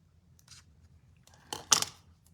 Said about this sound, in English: Turn it over to snip this little bit off the back.